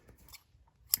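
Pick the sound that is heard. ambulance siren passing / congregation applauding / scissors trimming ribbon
scissors trimming ribbon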